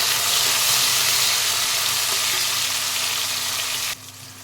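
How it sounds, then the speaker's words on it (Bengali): Chopped tomato frying with onions in a pan, a loud, dense, continuous sizzle that drops sharply in level near the end, close by with no voices. "দিয়ে দেবো আমি একটা কেটে রাখা টমেটো, দিয়ে আবার ভালো করে নাড়িয়ে নেব"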